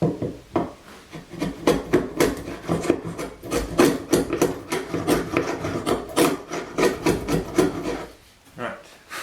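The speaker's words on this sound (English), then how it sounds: "I can run my grooving plane right through and come out of the pinholes" A hand grooving plane cuts a groove along a wooden hall table part, working against the grain in repeated rasping strokes, close and loud.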